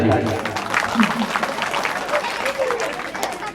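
Clapping breaks out from listeners at a village Bhagwat Katha religious discourse, an uneven patter of applause mixed with voices talking over it.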